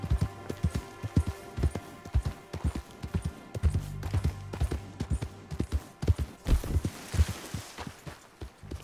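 Rhythmic horse hoofbeats clop steadily throughout in Red Dead Redemption 2, a regular trotting pattern with no talking, fairly close and clear.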